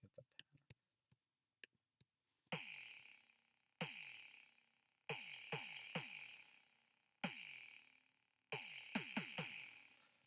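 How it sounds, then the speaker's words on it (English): An 808 bass pattern built from a song's bass melody plays on its own: booming hits that slide downward in pitch, arriving in spaced groups with a bright click on top, preceded by a few sparse soft ticks. "So the 808 would sound like this by itself."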